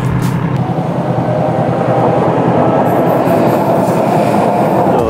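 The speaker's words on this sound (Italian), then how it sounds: "treno sul Bernina." A Bernina railway train rolls past, a steady loud rumble with a rhythmic clickety-clack of wheels filling the whole stretch, no voices over it.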